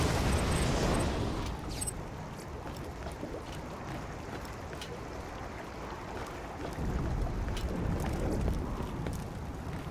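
A dense roaring explosion rumbles in the Borderlands video game. Heavy, continuous noise fills the whole stretch, swelling slightly toward the end with scattered crackles over the low roar.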